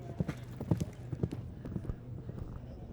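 Polo pony hooves clip-clopping on a grass field during a British Open match, a brisk uneven run of thuds, fairly close and moderately loud, with faint crowd ambience behind.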